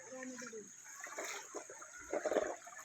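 Water trickles and babbles steadily from a rural stream in the Philippine provinces while a person speaks softly nearby.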